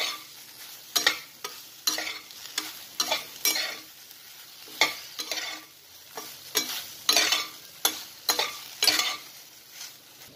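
Eggs mixed with a homemade spice blend are stirred in a hot frying pan, giving a soft sizzle broken by repeated scraping strokes of a spatula in an uneven rhythm, close up and without speech.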